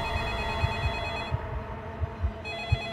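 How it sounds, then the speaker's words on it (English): A telephone ringing steadily with a trilling electronic tone, moderately loud in a quiet room, pausing briefly before ringing again. "And the phone stopped ringing."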